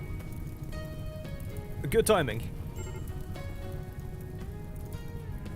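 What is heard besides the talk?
rain in the video game RimWorld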